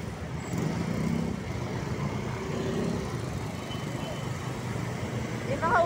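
Traffic noise from cars and motorcycles rumbles steadily on a congested Pasay City road, with people talking nearby throughout.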